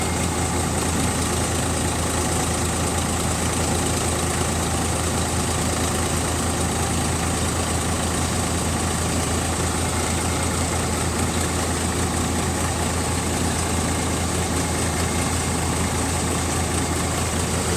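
Tractor engine running steadily while harvesting a mustard crop with a double-shear combo attachment, a loud continuous drone that stays constant and close throughout, with no speech.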